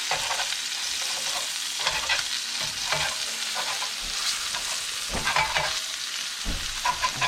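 Half-cooked Jimmy Dean sausage sizzles steadily in a frying pan as a utensil chops and stirs it into small pieces, with scraping strokes over a continuous close fry.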